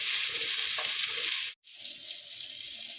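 Dried red chillies and native tomato sautéing in a pan give a steady, close hiss of frying with a brief cut in the middle, no voices.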